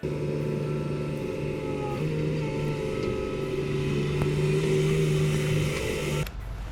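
An excavator digs at a house building site on rough land. Its engine drones steadily and loudly with a constant hum for several seconds, then cuts off with a short clunk near the end.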